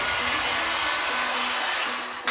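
A heat gun or hair dryer blows continuously at close range while warming tint film stretched over a car headlight, a steady broadband whoosh with a faint motor hum that shifts briefly at the end.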